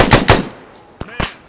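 Loud bursts of machine gun fire from the Arma 3 military shooter, two strong close shots early on followed by two sharper, quieter reports after a short gap.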